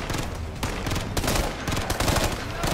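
Rapid gunfire in the tactical shooter video game Ghost Recon Future Soldier, a loud, dense burst of automatic shots crackling continuously for a few seconds with no talk over it.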